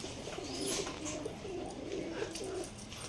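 A Giribaj pigeon, an adult bird in a loft, coos softly in a repeated low rolling pattern, several phrases over a steady background hiss.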